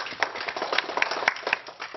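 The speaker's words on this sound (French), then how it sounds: "Oui, applaudissez cela, elle a déjà donné une réponse." Scattered clapping from a small studio audience on a French talk show, a handful of hands striking in an uneven rhythm, moderately close and fairly faint.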